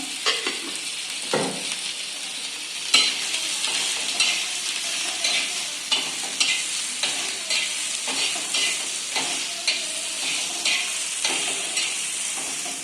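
Onion frying in a spoonful of oil for besan poli, a steady close sizzle with rhythmic stirring scrapes recurring every second or so, no voices.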